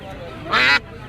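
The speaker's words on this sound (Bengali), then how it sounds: "আপনার পালেরই হাঁস না" A single loud, nasal duck quack bursts out briefly at a village market, surrounded by a low murmur of people talking in the background.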